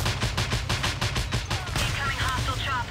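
Rapid, rhythmic bursts from a flak cannon in the video game Just Cause 2, a fast train of heavy booming shots with a deep low-end thump, loud and continuous, later thinning into scattered explosions.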